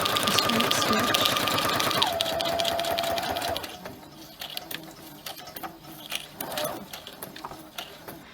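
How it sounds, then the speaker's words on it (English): Sewing machine running a straight stitch through paper, a fast steady mechanical whir with a shifting motor tone for about three and a half seconds, then quieter clicks and handling noises. "So I'm just going to straight stitch."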